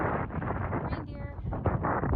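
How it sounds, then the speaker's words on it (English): Blustery wind on a mountain hiking trail buffeting the microphone, a loud, close, continuous rumbling roar with gusty swells throughout. "It's very blustery"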